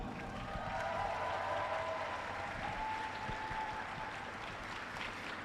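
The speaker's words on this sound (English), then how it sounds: "Teams, give them a huge round of applause" Audience at a FIRST Tech Challenge robotics state championship gives a long round of applause, a steady crowd clapping heard at moderate distance in a large hall, with faint cheering woven through.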